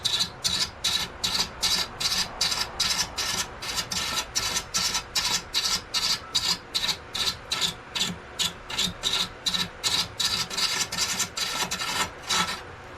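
A fluted gouge cutting a large wooden bowl on a lathe, a loud rhythmic rasping scrape repeating about twice a second, steady and close, with no voices.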